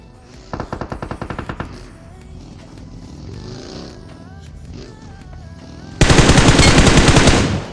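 Gunfire aimed at a BRDM armored vehicle in the mobile battle game BGMI: a rapid automatic burst, then quieter rattling, then a long, very loud sustained burst at close range.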